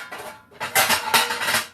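Metal baking pans clatter and scrape together in a kitchen as they are shuffled and pulled out one after another, with close, bright clanks and rattles.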